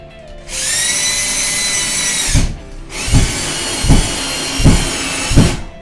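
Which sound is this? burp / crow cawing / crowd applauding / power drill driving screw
power drill driving screw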